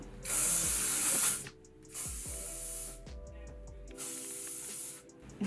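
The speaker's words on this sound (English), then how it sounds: "Take a little bit of hairspray and spray this in." Three short hissing bursts from an aerosol hairspray can, each about a second long, close by, separated by brief clicks of the nozzle.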